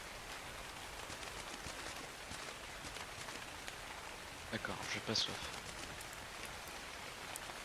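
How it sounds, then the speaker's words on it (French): Steady rain falls in the survival game Ark, a dense even patter across the whole stretch with a few brief chirps, while a voice speaks softly over it. "il pleut"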